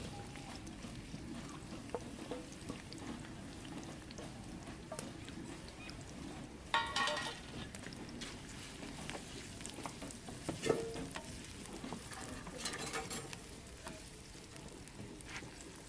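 Onions frying in hot ghee for green chilies stuffed with qeema, a low, steady bubbling sizzle with faint patter, interrupted a few times by brief scraping stirs and clinks, fairly quiet.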